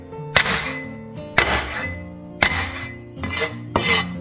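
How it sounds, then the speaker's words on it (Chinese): A knife blade smashes garlic cloves against a cutting board, four sharp, heavy thunks spaced about a second apart, close and loud with brief ringing after each blow. "准备几颗大蒜，先拍碎"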